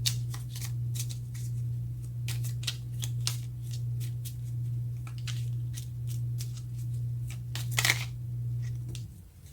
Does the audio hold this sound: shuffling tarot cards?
yes